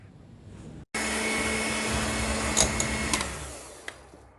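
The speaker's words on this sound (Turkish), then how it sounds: "İkisini iyice koyulaşana kadar çırpacağım." An electric mixer whips cold cream with powdered sugar for a no-bake cake, switching on abruptly after a short pause into a steady, loud whirring hum that carries on unbroken with a few small rattles.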